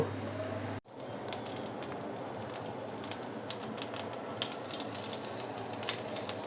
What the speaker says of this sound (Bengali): ললিগুলোকে আমি ঠিক উল্টিয়ে পাল্টিয়ে এভাবে লাল করে ভেজে নিব